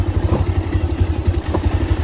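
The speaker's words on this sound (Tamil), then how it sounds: "இன்ஜினு பிரேக்காக யூஸ் ஆகுன்னு பார்த்தா இன்ஜின் வந்து ஸ்பீடை ட்ரிகர் பண்ணி விடுது" A motorcycle engine braking on a downhill slope gives a loud, steady, rapidly pulsing throb with some mechanical clatter. Two brief, faint sounds rise above it, and no one speaks.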